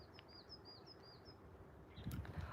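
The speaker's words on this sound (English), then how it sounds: "You could hear the birds singing." Small birds chirp outdoors in rural Russia, with a repeated thin whistling call early on and a few brief sharper chirps later, all faint against a steady background hiss of a nearby stream.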